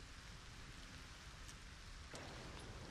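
A rainstorm in the LEGO Fortnite video game, a steady hiss of heavy rain falling on surfaces with faint drop ticks, low in level and without talk.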